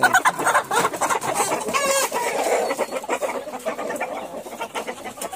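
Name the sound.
chickens and rooster clucking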